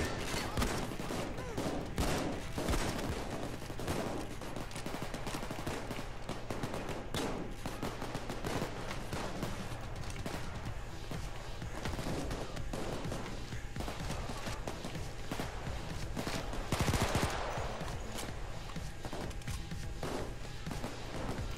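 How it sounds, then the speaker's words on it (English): Dense automatic gunfire from the heist shooter Payday 2, rapid overlapping bursts and single shots rattling almost nonstop at steady loudness, with a heavier thump near the end. "I love the gun sound in Payday 2."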